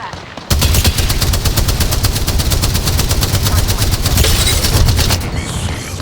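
Rapid automatic gunfire in the shooter game Apex Legends, a loud sustained burst of evenly spaced shots lasting several seconds after a short quiet opening, then tailing off.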